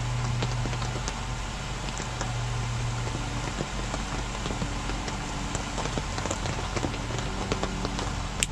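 Wind-driven sideways rain pours steadily on a porch, a constant broadband hiss with scattered drops and patters that stays loud and even throughout.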